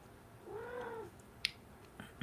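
A pet cat gives a soft rising-and-falling trill in the background, faint against a quiet room, followed by a few small clicks and rustles.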